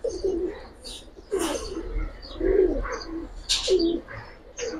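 Giribaz and Lalpawi military pigeons coo repeatedly at close range in soft, throaty bursts, with a few faint chirps in between.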